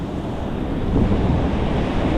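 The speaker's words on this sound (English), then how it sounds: "standing down there and getting smacked by the wave" Surf rushes and roars steadily at the edge of a picturesque beach, with a broad, continuous wash of breaking waves close by and some wind buffeting the microphone.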